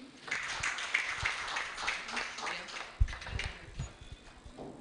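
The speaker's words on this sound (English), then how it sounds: "Let's clap for him" A seated audience at a program gives a brief, steady patter of applause, many hands clapping together at moderate distance without voices.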